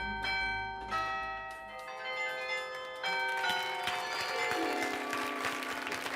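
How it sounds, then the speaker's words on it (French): Struck bell tones ring out in clear sustained notes on a game show set, one after another with long decays, while audience applause swells underneath. "Il joue du carillon et c'est la bonne réponse"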